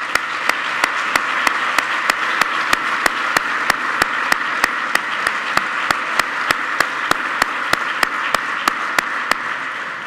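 An audience applauds at an Erasmus programme 30th-anniversary award ceremony: a sustained wash of clapping runs throughout, punctuated by sharp, evenly spaced claps.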